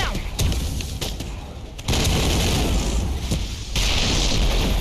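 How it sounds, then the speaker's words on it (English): Gunfire rattles and booms through a Mass Effect attack scene, dense bursts of shots and heavy thuds layered over a continuous rumbling battle din, loud and close. "Gunfire. Get down!"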